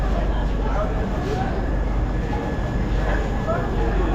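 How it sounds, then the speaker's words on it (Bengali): The Kanchankanya train at Siliguri Junction station gives a steady, broad rumble that fills the platform without a break, with a faint high tone running through it. "এই যে কাঞ্চনকন্যা ট্রেন,"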